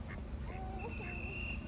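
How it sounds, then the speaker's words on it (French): A family of ducks in a park at Parc de Bagatelle, Paris, with faint quacks over a steady outdoor background; a whistle-like tone and some distant voices are also present. "En rentrant, nous avons également croisé une famille de canards"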